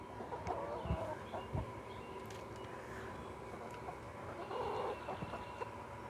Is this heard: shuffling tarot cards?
no